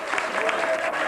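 Sustained audience applause with steady, dense clapping fills the room at an event introducing partners from Nice and Valence; close and continuous throughout, with some voices mixed in.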